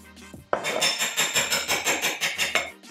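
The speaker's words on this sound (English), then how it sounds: "let's go ahead and beat those eggs" A whisk clatters rapidly against a bowl while eggs are beaten for salmon cakes, a quick rhythmic metallic tapping heard up close and alone.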